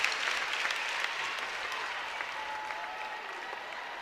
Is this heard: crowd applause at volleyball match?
yes